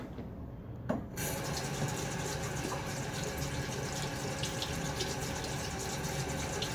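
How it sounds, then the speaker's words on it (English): A tap runs steadily while shaving soap is rinsed off fingers at a bathroom sink, a constant close rush of water that starts abruptly after a brief quieter moment. "Taking a second to rinse it off my fingers."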